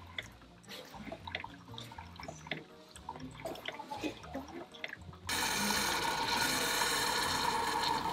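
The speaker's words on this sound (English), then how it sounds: "Daddy's coffee's pouring." Coffee pouring into a cup in a home kitchen, a soft trickling and rubbing texture at low level, with a louder, steady rushing pour taking over for the final few seconds.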